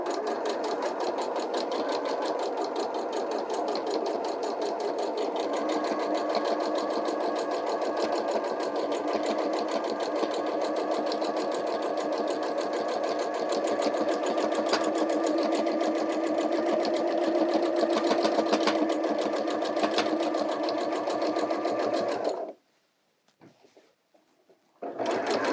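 A sewing machine runs steadily and close while stitching binding onto a quilt, its fast even needle chatter holding for over twenty seconds before stopping, followed by a couple of brief handling sounds.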